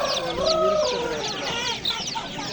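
Chickens and chicks cluck and cheep in a dense, overlapping chorus at a poultry bazaar, fairly close, with little talk.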